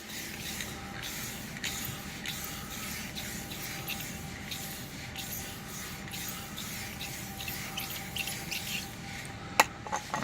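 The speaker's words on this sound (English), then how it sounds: "I'm gonna go ahead and paint this side again." Spray gun applying paint to a side body panel of a BMW 325i during rust repair, a steady continuous hiss running throughout with small pulses and no talking.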